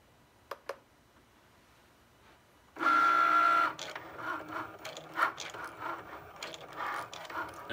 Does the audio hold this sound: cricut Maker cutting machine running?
yes